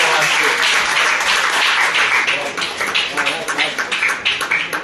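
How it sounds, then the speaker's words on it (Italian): An audience applauds loudly and steadily, the clapping thinning into separate claps toward the end. "Quindi vi chiedo un applauso per Giuseppe Scarpato."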